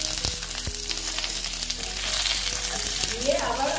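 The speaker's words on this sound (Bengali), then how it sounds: "দিয়ে আবার আমি ভেজে নিচ্ছি" Potato and pumpkin pieces fry in a pan with a steady hissing sizzle, a few sharp ticks early on and the spatter growing a little louder toward the end.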